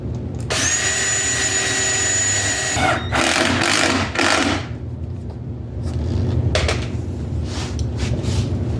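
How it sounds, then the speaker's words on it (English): A power drill drives screws through the back of plywood guides for custom storage-bin racking, a loud continuous whine for about three seconds followed by shorter bursts and rattling workshop handling noise. "what we're doing is screwing into the back of our guides coming down"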